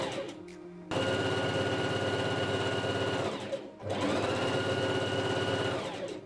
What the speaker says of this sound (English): And then sew it.